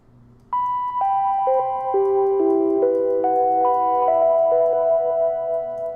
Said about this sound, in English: So I got this Omnisphere preset called Pure in Spirit, which sounds like this.